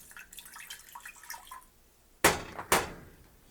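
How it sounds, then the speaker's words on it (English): Water is poured into a pot for making wine, two short, sharp splashing bursts close by, coming after a stretch of faint dripping and quiet handling sounds. "put in your water,"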